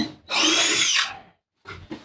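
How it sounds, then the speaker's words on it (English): A power drill fitted with a very tiny bit bores into the center of a puck, one loud whining burst of about a second that spins down, followed by a brief quieter restart. "you have a drill with a real tiny bit here. And you're going to try to aim dead center of that puck."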